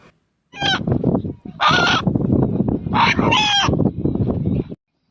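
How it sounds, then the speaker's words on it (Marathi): A rooster in Satara district, Maharashtra, crows in a few loud, strained calls close by, with short gaps between the bursts. "अण्णा या नावाने हाक मारणारा कोंबडा सध्या सातारा जिल्ह्यातील चर्चेचा विषय बनलाय"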